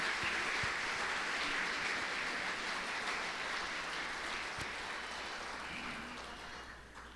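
Church congregation gives sustained applause, a thick, steady roar of many hands clapping that slowly fades toward the end.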